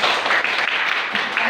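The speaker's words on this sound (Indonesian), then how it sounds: "Tepuk tangan." Students in a classroom clapping together, a brief burst of dense applause that fills the room and stays fairly loud throughout, with a murmur of voices mixed in.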